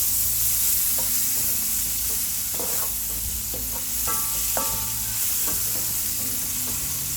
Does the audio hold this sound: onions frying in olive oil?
yes